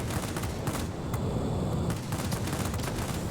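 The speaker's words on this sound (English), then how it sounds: "They're very rapid fire 30mm cannons, so that's very helpful." Rapid-fire 30mm aircraft cannons firing in the World of Warplanes video game, a dense continuous rattle of gunfire with rough bursts, fairly faint and steady throughout.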